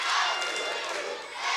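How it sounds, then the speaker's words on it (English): A wrestling arena crowd chanting for Sting, a loud, dense roar of many voices that sustains throughout with a slight dip near the end. "Listen to this crowd, man. They are chanting."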